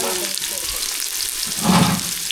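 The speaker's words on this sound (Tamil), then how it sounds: "நல்லா சூடாயிடுச்சு வெங்காயம் சேர்த்துக்கலாம்" Small shallots sizzling in hot oil in a home kitchen, a short close frying hiss that swells near the end as they go in.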